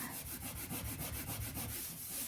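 A wooden extendable dining table is scrubbed with pink cleaning paste, heard as quick, rhythmic rubbing strokes, close and continuous, with no talking.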